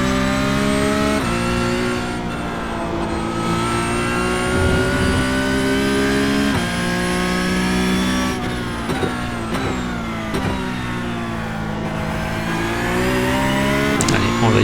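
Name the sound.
Porsche Cup race car engine accelerating in iRacing video game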